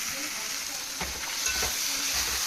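Cumin and coriander powder sizzle steadily as they are added to a hot pan, a close, continuous hiss of frying with a few soft scraping stirs and no talking.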